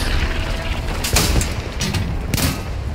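Distant tank cannon shots in Hell Let Loose, a World War II shooter, fired at an enemy tank on a hill about 800 metres away; two heavy booms arrive roughly a second apart over a constant rumbling battlefield background.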